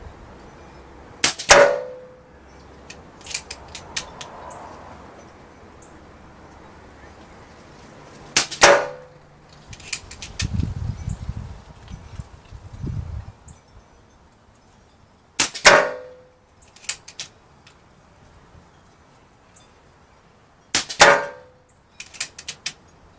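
A Diana Stormrider .177 PCP air rifle fires four separate sharp shots spaced several seconds apart, each a crisp crack with a quick smack at the target, with faint mechanical handling noise between them.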